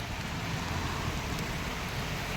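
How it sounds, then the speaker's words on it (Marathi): Heavy unseasonal rain pours steadily in Konkan, a dense continuous hiss and patter with no breaks and no voices. "हा इथे हा काय केवढा मोठा पाऊस पडतोय"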